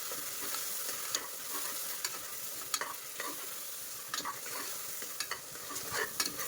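Onion paste is stirred in hot oil for a bread palav, giving a soft continuous sizzle broken by irregular scraping clicks of the spoon against the pan, close and fairly quiet with no voices.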